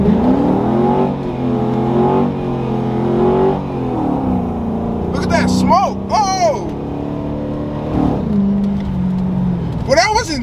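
A 2007 Chrysler 300C launches hard, its engine roaring and revving while the tires spin, with excited voices calling out over the loud in-car engine noise.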